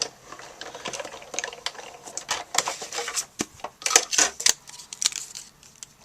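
A Big Shot die-cutting machine cranking paper through, irregular clicks and clunks of the handle and plates, close and moderately loud, with a brief cluster of sharper knocks midway.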